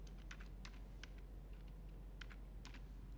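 A title is keyed in on a computer keyboard, with soft, close clicks in quick irregular bursts over a quiet room hum and no talk.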